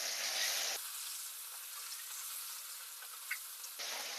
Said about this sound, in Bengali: অল্প অল্প করে মাছগুলো ভেজে নেব।